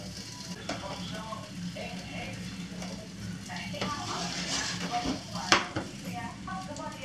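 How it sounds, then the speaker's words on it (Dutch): Potatoes frying in a pan with a steady sizzle, occasional stirring and utensil clinks against the pan, while people talk nearby. "Gebakken aardappeltjes maken op deze manier"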